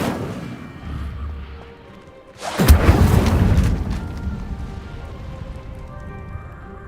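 Incendio fire spell cast in Hogwarts Legacy: a low rumble builds to one sudden loud whooshing blast that roars for about a second and then fades into a crackling tail.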